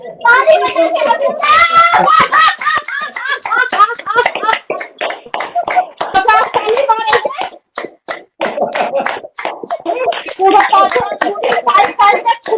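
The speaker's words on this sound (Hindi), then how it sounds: "ताली बजाएंगे" A group doing a laughter yoga exercise claps their hands in quick, loud, irregular slaps, with palms striking firmly, mixed with hearty group laughter and voices throughout.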